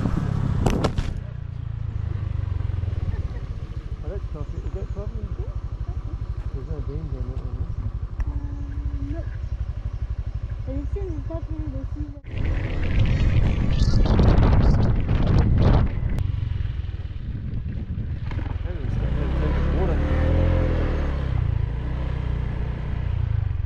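Motorbikes cruising on Flores Island, Indonesia: a continuous low engine drone mixed with heavy wind buffeting on the microphone, swelling louder partway through as the ride continues, with no pauses.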